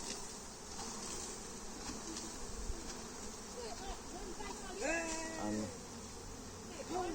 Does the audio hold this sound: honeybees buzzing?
yes